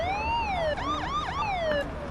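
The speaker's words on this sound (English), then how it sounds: "Sirens up here." A police siren in the video game Police Simulator: Patrol Officers wails up and down, then briefly switches to a faster yelping pattern before returning to the slow wail, close and steady.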